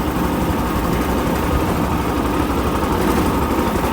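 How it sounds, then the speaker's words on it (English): A John Deere 420CC tractor engine runs steadily at idle while driving full speed forward up a slight incline, a loud, close, continuous low rumble with even vibration and no talk. "So at idle, I'm going to go to full foot pedal. So we're going full speed forward at idle, up a slight incline."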